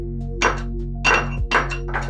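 Several spaced hammer knocks tap a glass sliding shower door frame being levelled during installation, four dull thunks with light clinks over a steady low hum, close and without talking.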